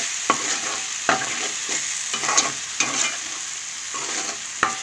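Fish pieces for a Srikakulam-style fish curry frying and sizzling in hot oil, a steady hiss broken by several sharp stirring scrapes of the spatula, close and fairly loud with no talking.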